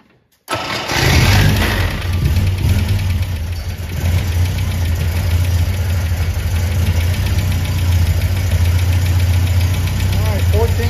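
A 1971 MGB's engine cranks on a weak starter and fires up after about half a second, then runs at a loud, steady, slightly rough idle for the rest of the clip, close up and with no talking over it.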